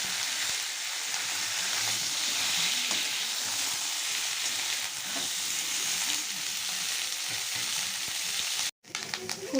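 Cauliflower and potato pieces sizzle steadily in hot oil in a pan, a loud continuous crackle with occasional stirring scrapes, cutting off briefly near the end before resuming.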